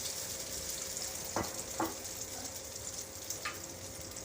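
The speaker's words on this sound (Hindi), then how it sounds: "घी गर्म हो चुका है। इसमें ऑमलेट का आधा वाला अमीज़ा डालेंगे" Omelette egg mixture with a little milk fries in hot ghee, giving a steady close sizzle with a few brief louder spits and stirring clicks.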